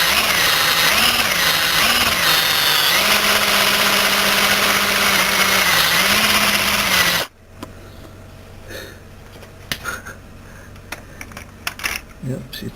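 A drill fitted with a homemade bit bores through raw metal, a loud steady whine with rising and falling pitch that stops abruptly partway through, leaving quieter handling clatter and scattered clicks.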